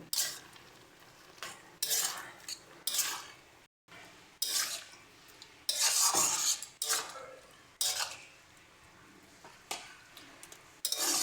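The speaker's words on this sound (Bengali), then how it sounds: "এবারে সমস্ত কিছু দিয়ে এটাকে ভালো করে মিশিয়ে নেব" Prawns and chopped tomato with salt being mixed in a pan for a Bengali prawn dish cooked in taro leaves, heard as repeated close scraping and clinking of a utensil against the pan in short bursts, with no talking.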